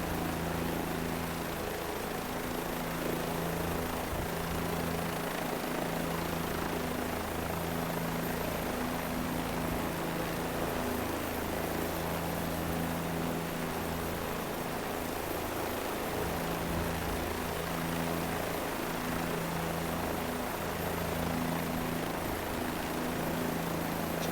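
Helicopter in a flight simulator game, a continuous loud rotor and engine drone with a dense rushing wash, steady throughout without any talk.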